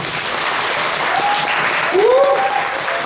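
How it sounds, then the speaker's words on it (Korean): A theatre audience at a musical curtain call applauds the stage manager and crew with dense, sustained clapping. A few cheers and whoops rise over it near the end. "저희 무대 감독님을 비롯한 모든 스태프분들께 다시 한번 큰 박수 한번 부탁드립니다"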